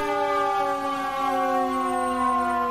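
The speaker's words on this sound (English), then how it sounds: "Lots of lights and siren action today." Wailing FDNY fire engine siren in Manhattan, steady and loud, its stacked tones held and gliding slightly throughout with no pause or talk.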